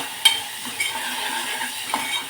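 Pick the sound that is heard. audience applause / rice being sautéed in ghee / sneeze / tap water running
rice being sautéed in ghee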